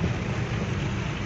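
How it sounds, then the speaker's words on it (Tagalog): Heavy rain pours steadily with a low thunder rumble underneath during a storm with flooding streets, a dense, loud and continuous roar with no talking. "malakas ang ulan"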